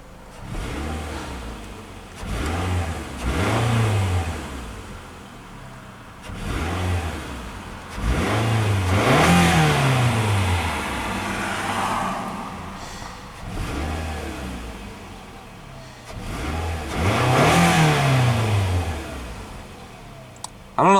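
A 2009 Toyota Camry LE with the 2.4L four-cylinder revs repeatedly while driving, the engine note climbing and falling in several loud surges heard from inside the cabin.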